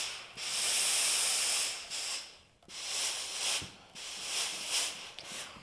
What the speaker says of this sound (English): I'm going to come around with my iron, and it's okay to use steam